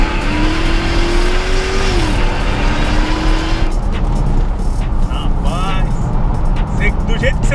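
Dodge Challenger Hellcat police car of the Federal Police revving and accelerating hard, a loud continuous engine roar with a rising pitch sweep early on, close and unbroken throughout.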